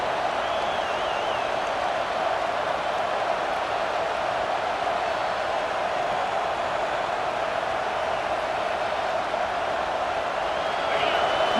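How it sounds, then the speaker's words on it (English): Stadium crowd noise in the video game College Football 26, a steady, dense roar of a large crowd held at an even level throughout, with a faint tonal hum running underneath. "Listen to the crowd energy here in the early going."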